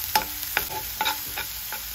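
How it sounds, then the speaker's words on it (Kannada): Ginger, garlic and onion fry in oil in a pan with a steady background sizzle, broken by repeated sharp stirring scrapes and clinks at an uneven rhythm, close and moderately loud. "ಹಾಗೆ ಒಂದು ಈರುಳ್ಳಿನ ಸಹ ಹಾಕಿ ಸ್ವಲ್ಪ ಫ್ರೈ ಮಾಡಿಕೊಳ್ಳಿ"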